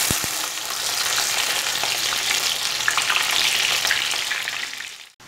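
Onions frying in hot oil and ghee over high flame for Kolkata-style mutton biryani, a loud, dense, continuous hiss and crackle with faint stirring underneath, close, ending abruptly.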